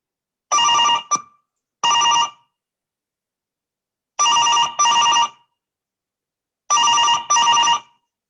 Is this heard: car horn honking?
no